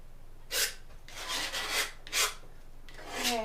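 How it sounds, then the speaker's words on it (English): A painting knife scrapes red paint across canvas in several short, raspy strokes with brief pauses between them, quiet and close, with no talk over it. "So it makes a funny noise. Painting knife."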